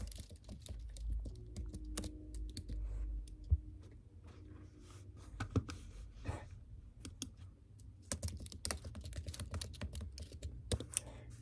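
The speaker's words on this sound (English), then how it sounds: "Typing in the rise definition." Keys clacking on a computer keyboard in irregular bursts of close, crisp clicks, with short pauses between runs of typing and no talking.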